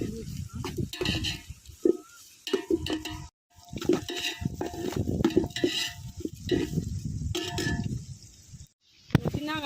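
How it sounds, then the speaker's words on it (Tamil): A spoon scrapes and stirs onions and curry leaves in a pan while cooking a chicken gravy, with irregular clinks and sizzling scrapes, short pauses between strokes, and a voice talking over the cooking. "இப்போ இதை கொஞ்சம் நல்லா கிண்டி விட்டுக்கலாம் ஃப்ரெண்ட்ஸ். வதங்கட்டும் வெங்காயம்."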